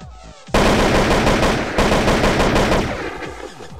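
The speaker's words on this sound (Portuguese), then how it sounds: "Novos sons de arma também, já vou estar postando aí" Rapid automatic gunfire from a modded weapon in GTA San Andreas, a loud burst of repeated shots that starts abruptly and rattles on for a couple of seconds before trailing off into echoing decay.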